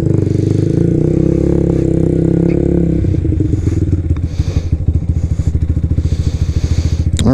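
A 2024 Freedom Fighter 200 EFI motorcycle runs up close and loud, its engine droning smoothly at first, then turning into a rougher, faster pulsing throb as the ride gets under way.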